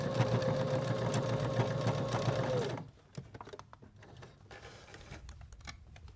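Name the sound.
sewing machine stitching around a DIY sewing kit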